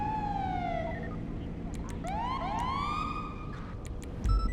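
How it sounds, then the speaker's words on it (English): A wailing police siren in a video game sweeps up and down in rising and falling tones, followed by a brief thump near the end. "Now turn your lights and sirens on."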